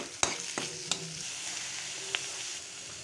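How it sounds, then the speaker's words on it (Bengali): Fish frying in hot oil with cumin seeds in a wok, a steady sizzling hiss broken by a few sharp scraping clinks of a utensil against the pan, close and fairly quiet, with no talking. "কড়াইতে তেল দিয়ে সামান্য জিরে ফোড়ন দিয়ে মাছটাকে আমি দিয়ে দিলাম।"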